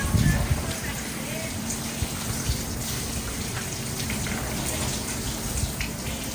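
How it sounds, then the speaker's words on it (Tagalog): Water draining quickly through the soil of a freshly repotted Vitex parviflora bonsai, a steady trickling, pattering wash of water throughout, with a voice speaking over it. "Nakita nyo kung gano'ng kabilis pumaba yung tubig."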